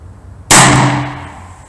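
A Smith & Wesson 460 Magnum XVR revolver fires a single loud, close, sharp blast after a short quiet moment, then a ringing decay.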